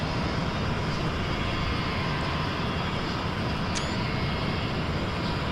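Steady, unbroken roar of Boeing 727-200F jet engines in a flight simulator cockpit, a broadband drone that holds constant and fairly loud throughout, with no voices over it.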